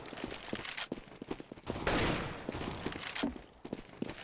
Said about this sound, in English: Shoots the ground a little bit. Some warning shots, I guess.